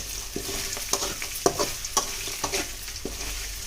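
Sabudana khichdi with a pinch of turmeric fries in a pan, soft steady sizzling punctuated by about half a dozen rhythmic stirring scrapes, close and fairly quiet.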